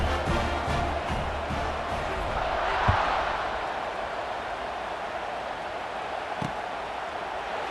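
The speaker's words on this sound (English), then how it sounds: "this crowd now ready to get behind them" Stadium crowd in the video game College Football 26 during Arkansas vs. Missouri, a broad distant roar that swells around the kickoff and then settles into a steady murmur, with a couple of faint thuds.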